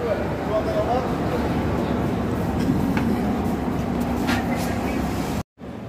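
The Palace Queen Humsafar 19668 train pulls out of Hubli station with a continuous loud rumble and rattle of moving coaches, a steady drone throughout, briefly cut off near the end.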